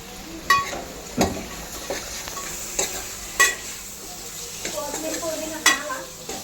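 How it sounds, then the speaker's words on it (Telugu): Chicken being stirred and fried in a pot for chicken palao, with metal utensil scrapes and clinks recurring every second or so over a steady close sizzle. "చికెన్ వేసుకొని కలిపేసుకుంటాం"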